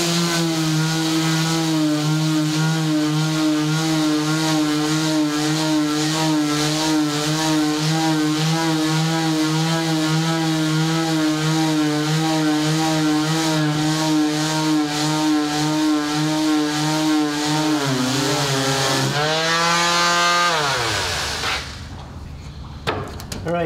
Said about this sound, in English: we'll get a sander on. This one has a vacuum on it